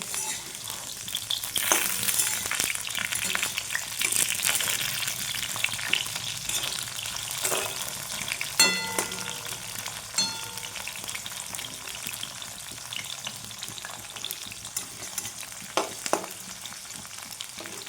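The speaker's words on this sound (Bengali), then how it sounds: "আর এক খোলা দিয়ে দিয়েছি ভেজে নেব লাল লাল করে" Pumpkin pieces fry in hot oil in a pan with a steady, close sizzle throughout, broken by occasional sharp clicks and scrapes of stirring. No one speaks.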